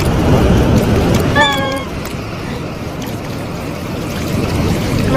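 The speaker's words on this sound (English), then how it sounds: "It's a waterfall." A waterfall sends out a steady wash of rushing water noise, loud and close, with a short high chirping sound partway through.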